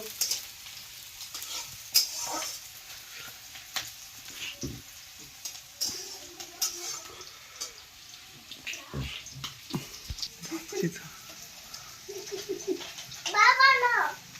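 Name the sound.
onions and chili frying in a pan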